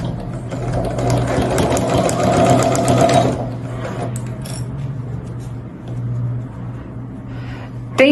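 A sewing machine whirs steadily as it stitches the lining of a pre-printed fabric pouch, loud and close for about three seconds, then continues more softly and intermittently with light mechanical clicks.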